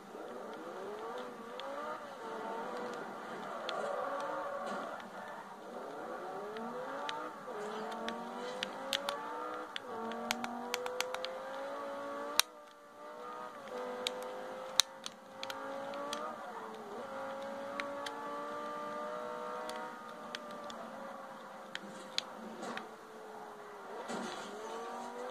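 Car engine in a driving video game, a Ferrari among the cars, revving and shifting pitch steadily throughout, with scattered sharp clicks and impacts over the continuous motor tone and no talk.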